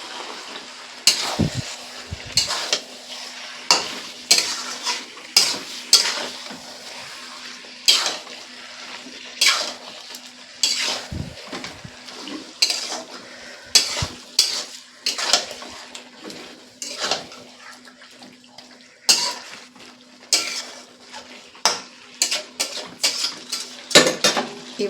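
A pan of cumin chicken, just salted, is stirred with a metal spoon: repeated sharp clinks and scrapes against the pan over a steady low sizzle, close and rhythmic throughout.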